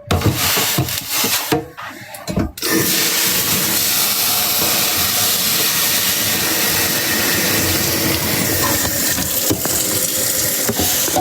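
Dishes being washed under running tap water, with a steady loud hiss of flowing water and clatter, briefly interrupted near the start, then continuous and close.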